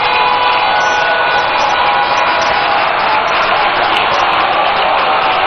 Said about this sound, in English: a rousing round of applause for the Right Honorable Speaker of Parliament